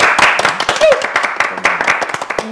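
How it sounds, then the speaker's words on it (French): Brief clapping from a small studio audience on a French talk show, a few seconds of hands beating quickly and unevenly with voices and laughter mixed in. "ça mérite des applaudissements, vraiment"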